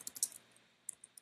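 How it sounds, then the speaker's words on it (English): A few quick, light keystrokes on a computer keyboard, close by and quiet, coming in an irregular run of clicks. "So let's just start typing"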